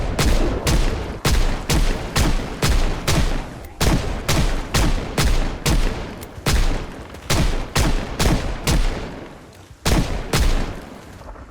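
Shotgun blasts fired at zombies through a fence in Project Zomboid, a long series of loud, sharp shots in quick, slightly irregular succession, each ending in a brief decay, with no talking.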